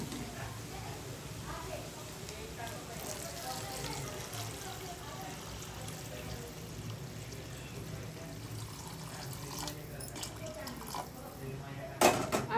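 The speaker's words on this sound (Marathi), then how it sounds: "आता पाणी आपण ह्याच्यात ऍड करू." Hot water is poured into a pot of rice being cooked for dalcha, a steady continuous pour heard throughout under a background voice, with a louder clatter at the end.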